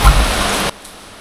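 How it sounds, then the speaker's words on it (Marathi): Steady hiss of rain falling, close and even, cutting off abruptly after under a second. "बाहेर पडतो क्षणीच पाऊस इलो"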